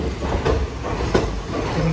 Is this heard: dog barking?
no